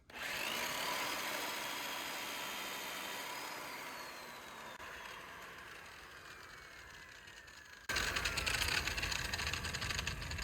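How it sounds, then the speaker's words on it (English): A grinder is used to polish a cabover truck cab. Its high motor whine starts strong and slowly winds down, then a louder, rougher buzzing burst of contact takes over near the end, with no voices. "you take your grinder, figure out which way it spins"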